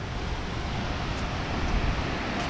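Trees rustle outdoors in a mild wind in Anapa, near a small church by a sanatorium, making a continuous soft broadband hiss that swells slightly, with no voices.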